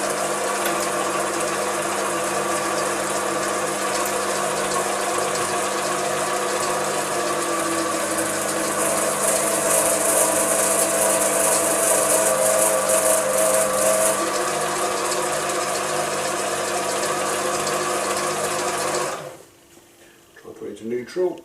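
A Chinese mini lathe runs in high gear with a continuous mechanical whine and rattling hum that stays steady for most of the time, then drops away abruptly near the end and is followed by a few uneven knocks.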